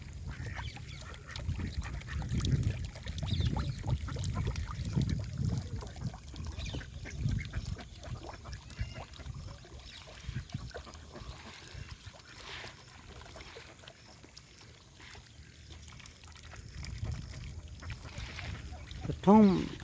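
Ducks quack on the water in several short bursts, mixed with splashy low rumble and a person talking over them, mid-distance and moderately loud.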